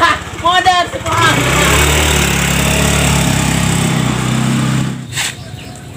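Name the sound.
motorcycle engine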